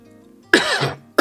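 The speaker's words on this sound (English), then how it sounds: "I should mute my mic when I'm coughing." A single sharp cough bursts out after a quiet moment, followed by a brief second cough at the end, close to the microphone with no talking.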